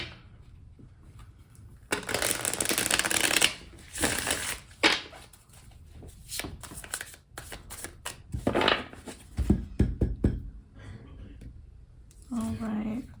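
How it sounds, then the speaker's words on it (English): Bursts of tarot card shuffling come in several rapid riffling passes, close by, with pauses and soft handling noises between them. "I'm gonna do one more big shuffle and then we'll just go from there"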